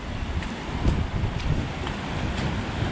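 River Washburn flows toward Thruscross reservoir as a steady broadband rush of moving water, with a low gusty rumble from wind on the microphone and no voices.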